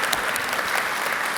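Conference audience applauding at an Awin ThinkTank event: dense, steady clapping from a crowd filling the space for a second and a half.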